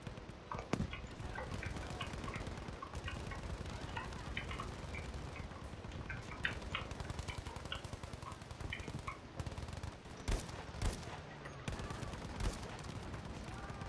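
Chaotic Battlefield V firefight with dense overlapping gunfire running throughout, broken by a few louder, sharper shots and distant bursts under a constant rumble of battle noise.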